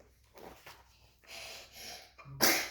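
A sharp, breathy inhale builds through a few gasps before a loud sneeze bursts out at the end, close up.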